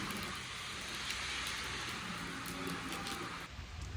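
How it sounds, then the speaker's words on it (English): Steady rain falling outdoors, a dense even hiss that holds for the whole stretch without a break and eases slightly near the end. "I'm getting rained out. Let me get out this rain."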